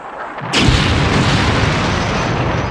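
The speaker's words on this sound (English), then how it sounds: "So good they used the exact same one for when the ship blows up." A movie explosion of a ship blowing up hits suddenly, a loud deep boom that swells into a sustained roaring rumble and slowly holds on.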